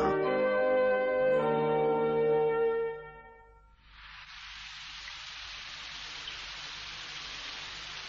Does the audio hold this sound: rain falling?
yes